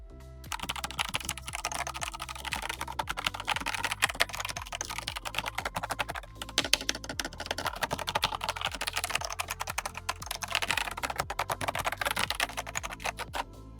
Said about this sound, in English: Magandang kanyang sound.